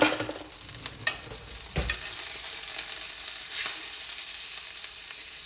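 Seasoned steak sizzling in a pan as it is flipped, a few soft clunks at the turn followed by a steady, fairly quiet frying hiss, with no voices.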